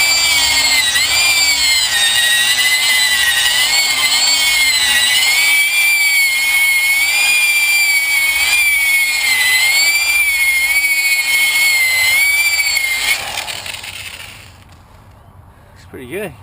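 Machine buffer polishing scratched car paint, a steady high whining drone with wavering pitch running continuously for about thirteen seconds, then winding down and fading out near the end.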